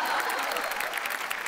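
Loud, sustained applause from a studio audience at a Marathi television comedy show, a dense steady patter of many hands clapping throughout with a faint murmur of crowd voices underneath.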